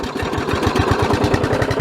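A lawn mower engine, a Chestona 500 set up for mower games, runs close and loud with a fast, regular low chugging pulse, like a steady idle, with no talking.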